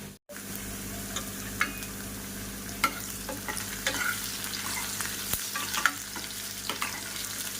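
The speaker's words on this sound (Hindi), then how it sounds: "तो मैं तड़का लगा देती हूँ दाल में" Tadka for dal sizzles and spatters steadily in a hot pan at home, a continuous frying hiss broken by occasional sharp crackles and stirring clinks, close and moderately loud, with no talking.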